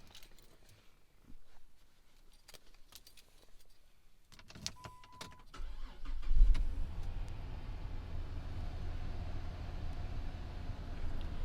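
Chrysler 300 with the 3.5 engine cranks briefly and then catches, settling into a steady idle rumble after some faint clicks and movement inside the car, with no talking.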